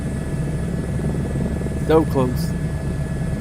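Simulated single aircraft engine droning steadily at full throttle during a climb in Microsoft Flight Simulator 2024, a constant low rumble throughout with a brief spoken remark over it.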